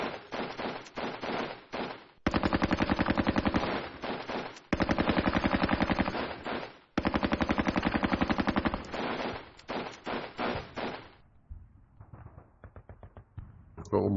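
Bursts of Maxim machine gun fire from a John Tiller wargame, Advance of the Reich, in a Bug River crossing scenario, loud rapid automatic fire in several long strings, then thinner scattered shots.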